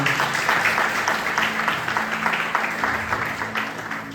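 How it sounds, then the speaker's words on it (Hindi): Audience at a church youth conference gives a dense, steady round of applause lasting several seconds, loud and close, with faint voices underneath. "एक बार जोरदार यीशु मसीह के लिए ताली बजाएं।"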